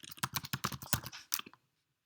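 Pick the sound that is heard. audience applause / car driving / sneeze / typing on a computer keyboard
typing on a computer keyboard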